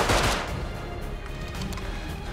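Rapid gunfire from the survival video game Rust, a dense burst of shots loudest at the start and then a steady crackling barrage that continues throughout with no voices.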